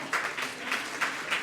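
A church congregation gives a choir soft, scattered applause during Sunday Mass, with a few light bursts of clapping rising and falling over a low room murmur.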